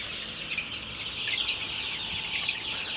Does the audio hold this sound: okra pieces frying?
no